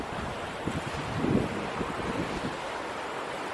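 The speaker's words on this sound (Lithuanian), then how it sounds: "Bet čia baika tas vėjukas" Wind blows across the microphone in a steady low rumble, with a slightly stronger gust partway through and a faint surf-like wash underneath.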